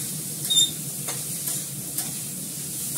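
Vegetable curry being stirred and fried in a pan, a steady close sizzle with a few scraping strokes of the spoon near the start and softer stirring scrapes after, no talk.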